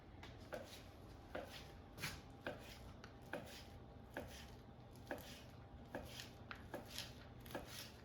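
Imitation crab sticks being cut into pieces with a knife on a board, giving a steady series of soft, evenly spaced chopping taps close by, with no talk.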